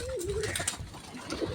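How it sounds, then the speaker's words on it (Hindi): Pigeons coo repeatedly in a low, throaty rhythm while feeding on grain, several birds close by with soft flutters and scuffling underneath. "सारे कबूतर दाना उठाते हैं टाइम से।"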